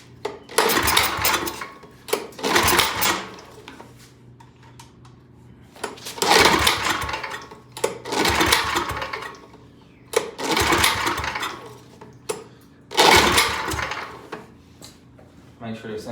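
An Ariens RT7020 tiller engine idling and revving in repeated throttle bursts, each surge loud and rattling before dropping back to a low idle, with a person speaking at times.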